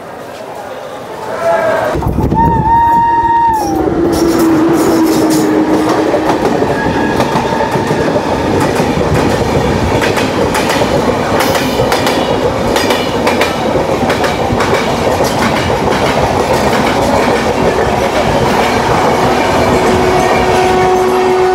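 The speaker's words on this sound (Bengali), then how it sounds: "তো ট্রেনটা এই বর্ধমান স্টেশনে 2 মিনিট অবধি দাঁড়ায়।" A train halted at Bardhaman station, with a steady platform and engine rumble throughout, a brief horn-like tone near the start, and people talking in the background.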